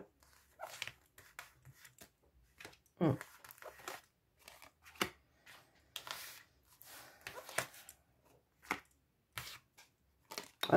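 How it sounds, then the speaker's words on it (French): Tarot cards being laid out one by one during a card reading, giving soft scattered slaps, flicks and shuffling rustles at close range, coming in irregular bursts across the whole stretch. "je vais déjà mettre toutes les cartes."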